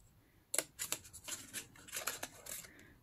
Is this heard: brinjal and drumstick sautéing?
no